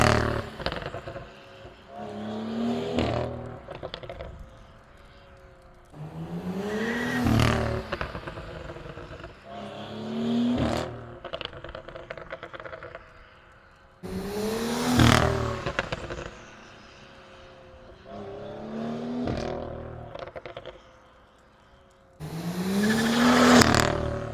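A tuned BMW N55 car exhaust burbles and revs in repeated bursts with overrun crackle, rising and falling with quieter idle gaps between each blip.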